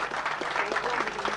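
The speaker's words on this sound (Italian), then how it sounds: "Grande, grande l'applauso per loro." A live audience at a 1992 villa entertainment evening applauds a couple, a short, dense burst of clapping at moderate level with a faint voice underneath.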